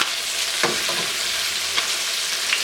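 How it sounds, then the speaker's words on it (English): Chicken pieces brown in a hot pan for paprikash, giving a loud, even sizzling hiss with a few brief scraping or tapping sounds scattered through, no voices. "Let's let these brown up. Let it go about 7 minutes on each side."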